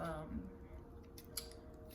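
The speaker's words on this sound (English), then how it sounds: "let me go ahead and cut these yellow pieces off" Clean scissors snip yellowed leaves off a houseplant during repotting, giving a couple of short, crisp cuts near the end over a low background hum and a faint voice.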